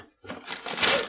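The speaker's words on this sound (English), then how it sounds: "I'll just rip this open." A paper package being ripped open by hand, a couple of close, loud tearing and crinkling bursts after a brief quiet start, with no talking over it.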